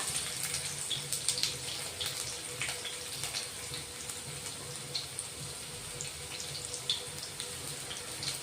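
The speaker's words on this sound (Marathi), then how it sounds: "आपलं तेल चांगलं गरम झालेलं आहे. जिरे टाकून घेऊ 1 चमचा. नंतर लसूण बारीक कट केलेला" A spoonful of cumin seeds and finely chopped garlic sizzle in hot oil, making a soft, continuous crackling hiss scattered with small pops, fairly quiet and heard alone.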